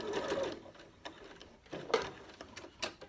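A sewing machine stitches a zipped pocket into a bag lining in short bursts of rapid mechanical chatter, close by and moderately loud, stopping and starting several times.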